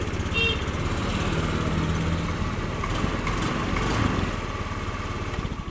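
Starter motor of an older Honda Beat injection motorcycle spinning continuously, a close, even buzzing drone that holds steady for several seconds without a break.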